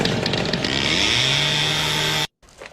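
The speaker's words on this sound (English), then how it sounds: "Chainsaw time." Chainsaw revving loud and close, a harsh buzzing drone that climbs in pitch and holds steady for about two seconds before cutting off abruptly into near silence.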